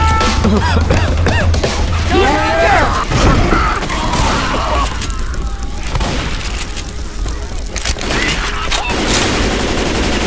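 Gunfire and booms from the Left 4 Dead 2 video game on a Black Mesa Undertow map, heavy continuous shooting and impacts with voices calling out over the din.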